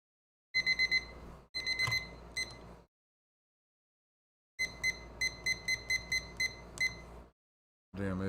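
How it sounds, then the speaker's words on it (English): An egg timer alarm rings in loud, close bursts of rapid electronic beeping, a few short pulsed runs broken by silent gaps, with no voices. "Damn egg timer."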